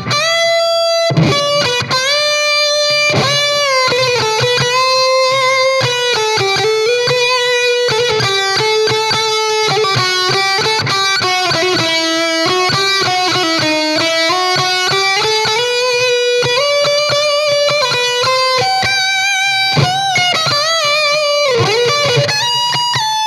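An Epiphone Les Paul electric guitar plays through clean, distorted and lead tones, with sustained, heavily driven notes and bends in a flowing melodic line, loud and close with no talk.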